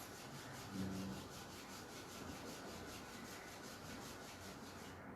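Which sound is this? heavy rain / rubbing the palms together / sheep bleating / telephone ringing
rubbing the palms together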